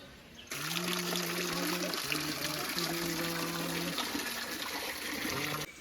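Steady trickling, splashing water of a small stream running continuously near a hill temple in the Konkan, with a faint hum or tonal drone beneath it, fairly close.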